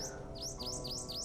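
Small birds feeding on thistle seed outside a window give a repeated series of high, bright chirps at a regular pace, faint and somewhat distant over a low steady background.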